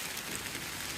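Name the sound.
heavy rain in New York City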